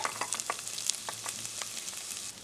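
Veggie mince fries in a pot, a close, steady sizzle dotted with quick crackles and light stirring clicks, with no voices.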